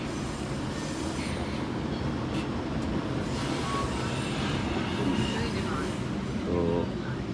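A Canadian GO double-decker commuter train runs along with a steady, loud rumble of wheels and carriage noise throughout, with faint squeals and rattles on top.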